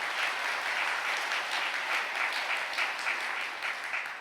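A crowd at a prayer gathering claps together in steady, sustained applause, moderately distant, with no talking over it.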